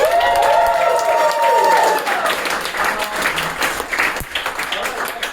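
A crowd at a Dungeons and Dragons improv comedy show bursts into loud, raucous applause with whoops and cheers that peak early and then thin out over a few seconds.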